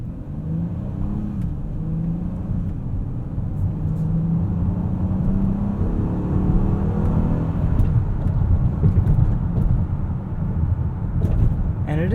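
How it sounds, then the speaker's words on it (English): A 2021 Honda Odyssey Elite's V6 VTEC engine with a 10-speed transmission, heard from inside while driving as a steady low rumble and whir with rising revs, constant and moderately loud. "It does love to rev with that V6 VTEC."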